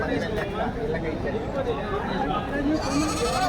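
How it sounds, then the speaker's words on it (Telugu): Goats and large bucks at a weekly sheep and goat market in Kadiri bleat amid a crowd, their calls rising over a constant hubbub of voices and people talking close by. "ఇవి మేకలు పోతులు పెద్ద పోతులు"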